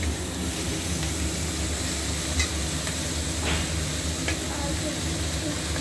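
Spinach (palak) wilting in a pan for a spinach curry, with a steady soft sizzle and hiss and a few faint spatula scrapes and stirs, close and continuous with no talking.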